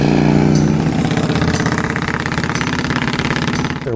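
Custom Honda Shadow VT750S flat tracker with ceramic-coated exhaust and 24-inch perforated core baffles in the mufflers, running with a steady, loud, throbbing V-twin rumble close by, no talk.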